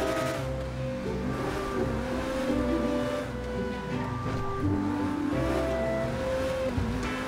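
Lamborghini engine in a GTA 5 racing mod, revving steadily and shifting pitch as it races, loud and continuous with a lower rumble underneath.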